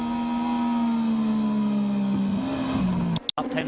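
A Moto2 racing motorcycle engine holds a steady high drone through a corner apex, its pitch sliding lower then rising again as the rider works the throttle, ending with a sharp brief crackle near the close.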